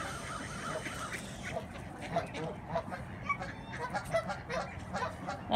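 A flock of geese honks repeatedly in uneven bursts, some calls near and some farther off, over a busy outdoor background.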